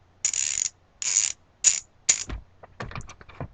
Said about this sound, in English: I want to say they're a 44 tooth ratchet, which isn't bad.